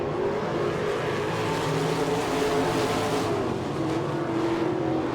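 Loud 410 sprint car engines snarl together at Attica during a three-car battle for the lead, a sustained racing roar shifting slightly in pitch as the pack circles.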